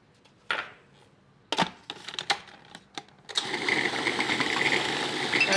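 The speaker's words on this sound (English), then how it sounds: "Use the pulsing lever on your machine to make sure you keep moving everything around." A food processor pulsing cracker dough with Stilton cheese: a few short, separate bursts and clunks, then the motor running continuously, fairly quiet and close.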